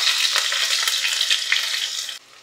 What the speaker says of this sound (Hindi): 1 मिनट के लिए प्याज को बस हम फ्राई करेंगे।